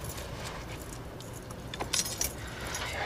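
A ring of keys jangles briefly as it is passed from one hand to another, a light metallic rattle in a quiet room with no talking.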